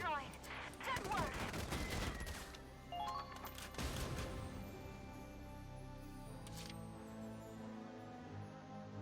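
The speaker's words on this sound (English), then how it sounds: "The enemy's returning fire." Enemies in the video game Valkyria Chronicles 4 open fire with a loud flurry of gunshots and impacts in the first few seconds, then the shooting thins to scattered shots over a quieter game backdrop.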